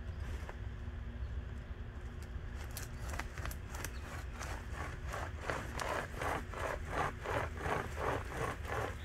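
A hand chainsaw cuts through old hardwood in a steady series of rhythmic rasping strokes. The strokes are faint at first, then become louder and more regular, with a low background hum underneath.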